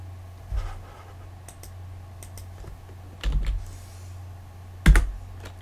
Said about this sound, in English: I'll type H again.